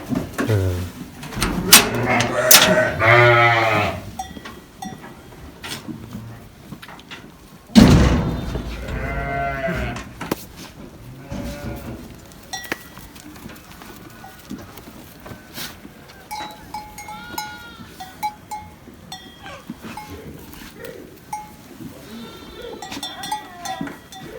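Sheep and goats on a village farm, several loud bleats close by at the start and again near eight seconds, then quieter scattered bleating and farmyard knocks farther off, with occasional talk.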